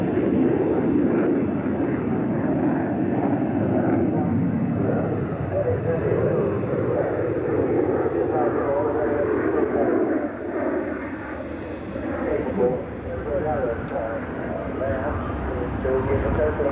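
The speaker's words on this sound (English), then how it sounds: "The Hawk is best known as the plane flown by the Red Arrow's aerobatic team." A BAE Hawk jet trainer flies at the Farnborough International 1986 airshow, giving a steady, loud engine roar that holds for the whole stretch and dips only slightly near the end, with a voice talking over it.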